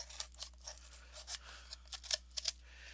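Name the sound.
scissors cutting a toilet paper roll in half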